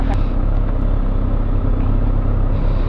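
A motorcycle engine idles close by in a steady low rumble throughout, with a brief voice at the very start.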